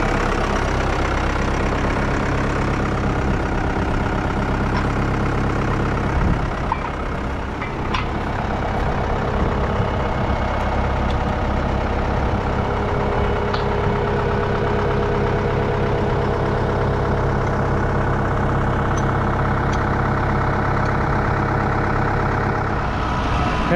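Farm tractor fitted with a quick hitch idling on a melon field, a steady low engine rumble that holds for the whole stretch, with a brief clank partway through and no talk over it.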